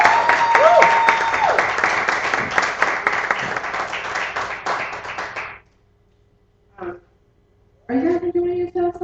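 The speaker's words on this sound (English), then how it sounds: "give Miss Queen another round of applause" Applause from the audience at a live spoken-word poetry event: a lively round of clapping and hand noise that fades out, followed by a brief lull, a short blip and then voices picking up again.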